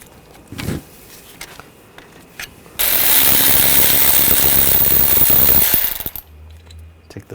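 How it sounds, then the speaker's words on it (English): A power tool with a 19mm socket loosens the brake caliper bolts on a 2015-2020 Cadillac Escalade, a loud continuous ratcheting burst of about three seconds, close up after a few quiet clicks and knocks. "Loosen up the caliper bolts and a 19mm wrench on the stud or on the pin."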